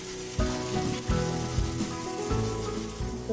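Oil sizzles steadily in a pan as pomfret fries to golden brown for a masala, with soft stirring or shifting scrapes breaking in every so often, close up and without talk.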